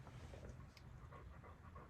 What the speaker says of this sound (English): And it's hot out, so he's panting.